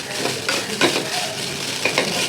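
A spoon stirs rice with ghee in a hot pan, with a soft steady sizzle and a few scraping clinks against the metal, close up and without speech.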